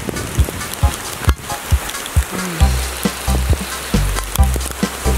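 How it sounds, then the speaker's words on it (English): Rain falls on a solar-powered stroller outdoors as regular tapping drops patter over a hissing wash, with a low hum entering partway through, close and moderately loud. "look at this rain"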